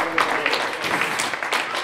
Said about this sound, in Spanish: da un aplauso muy fuerte a Bernie, que lo ha hecho muy bien.